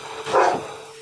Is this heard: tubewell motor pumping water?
no